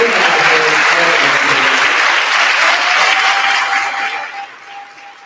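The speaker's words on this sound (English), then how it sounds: "So please join me in one big round of applause." A large audience at a school board candidate forum gives a round of applause, loud, dense clapping with a few cheers that holds for several seconds and then tapers off.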